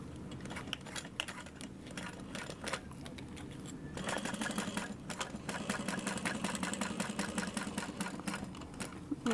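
A sewing machine stitches a clear vinyl sling, starting with a few slow, uneven bursts and then running in a steady, quiet rattle for the last half.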